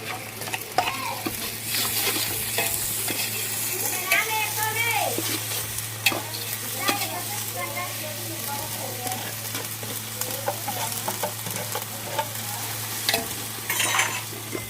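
A spoon stirs and scrapes masala with ginger-garlic paste in a sizzling pan, close and steady, with occasional clinks and no voices.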